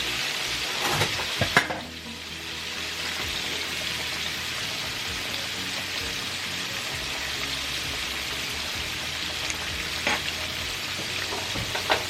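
Pork chops crackle and sizzle steadily in hot grease, a continuous dense frying hiss with a few brief clatters near the start and no talking.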